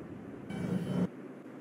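An R142 subway car on the Eastchester-bound 5 local runs with a steady low rumble and a hum. A brief louder whine swells for about half a second and then cuts off.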